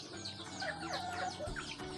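Fighting-breed or backyard chickens cluck softly nearby, a quick run of short throaty clucks over low background noise.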